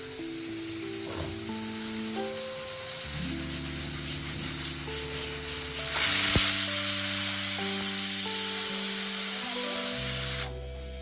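A pressure cooker on the stove while making pav bhaji, hissing loudly as steam escapes and building in intensity before cutting off abruptly, with faint tonal beeps over the rushing noise.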